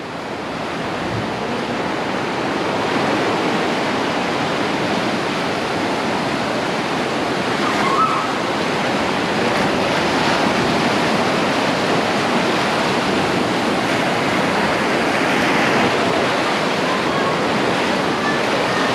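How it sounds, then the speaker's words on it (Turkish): Ocean surf roars continuously as waves break along the shore, a broad steady wash of noise with gusty wind mixed in, loud and close. "Çünkü buranın denizi çok dalgalı."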